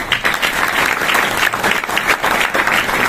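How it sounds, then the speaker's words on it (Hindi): An audience applauds senior colleagues at a company program, a dense, steady wash of clapping filling the whole stretch, close and loud with no pause. "इनके लिए जबरदस्त तालियां।"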